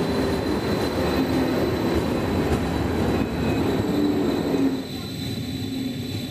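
An ET-133 electric train of the Berchtesgadener Land railway in Bavaria rumbles steadily and fairly loud, with wheel and rail noise running continuously before easing slightly near the end.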